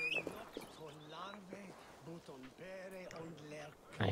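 Horse hooves clopping closer in the Viking-era video game Assassin's Creed Valhalla, soft rhythmic hoofbeats with a whinny as the mount approaches, quiet beneath someone talking.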